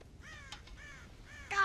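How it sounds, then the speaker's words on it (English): Crows in Red Dead Redemption give several harsh, rasping caws in quick succession, fairly close and moderately loud, over a low ambient bed with no talking. "God damn crows!"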